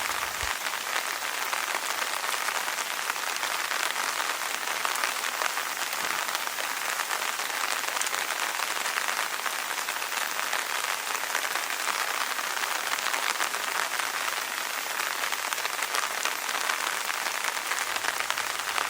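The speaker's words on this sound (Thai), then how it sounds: "ตอนนี้ฝนยังตกโปรยปลายอยู่" Light rain patters steadily on surfaces, an even, dense hiss of fine drops that continues unchanged throughout, with no voices.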